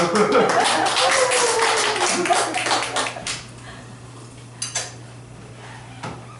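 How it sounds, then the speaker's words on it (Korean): A church congregation claps loudly for a few seconds, then the clapping thins to a few scattered claps and fades out. "할렐루야 박수"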